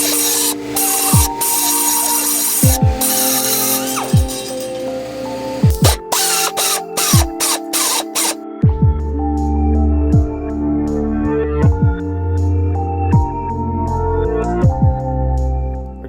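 Power tool grinding weld beads out of Fox Body Mustang header ports, heard as harsh rasping bursts that start and stop repeatedly, close and fairly loud, with a sustained whine under the later passes.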